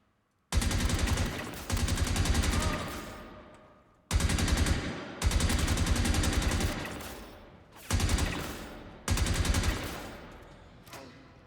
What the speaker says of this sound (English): someone starts shooting at us, which they're already doing